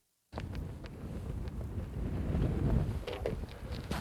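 Wind gusting across a golf course, a low rumbling buffet on the microphone that swells and eases steadily, near and fairly loud with no talk.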